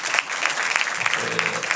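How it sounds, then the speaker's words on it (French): A comedy show audience claps briefly, a short dense burst of applause with faint voices mixed in. "Est-ce qu'on peut applaudir pour lui?"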